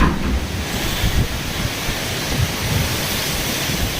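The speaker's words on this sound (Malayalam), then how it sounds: "ശക്തമായ കാറ്റും മഴയും ശക്തമായ ചുഴലിക്കാറ്റും അടിച്ചു വീശി" Heavy summer rain driven by strong cyclone wind in Pathappiriyam, Malappuram district, a dense continuous roar of rain and gusting wind, loud and steady throughout with no voices.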